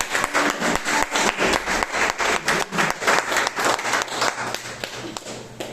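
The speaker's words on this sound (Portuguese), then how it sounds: "Dê um aplauso, meu Jesus." Rhythmic applause from a church congregation, steady hand clapping in a regular beat that fills the room, fading slightly toward the end.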